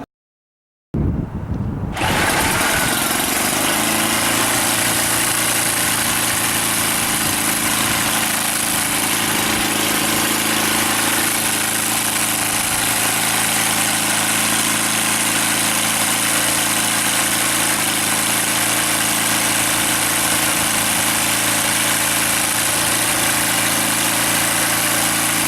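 An engine idles steadily and loudly after a brief silent start, its low hum and vibration holding constant for the whole stretch with no voices.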